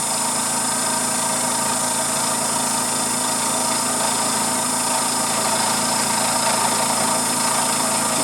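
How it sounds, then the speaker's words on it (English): An Emco F1 CNC mill cutting a lathe toolholder with a worn cutter, giving a loud, steady mechanical drone with constant vibration and a dense hum that holds unchanged throughout. "Some vibration coming from the machine. I think the cutter is way past its best"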